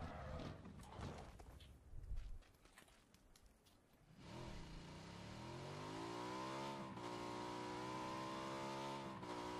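A motorcycle engine in the video game PUBG: after a few seconds of rough, choppy noise, the engine rises into a steady, climbing rev that holds loud and sustained to the end, with no speech.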